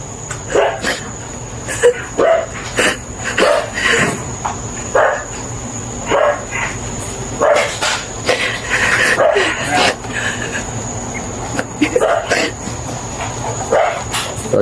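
Dogs barking repeatedly indoors, close, in irregular bursts with some whimpering, mixed with people talking in the background.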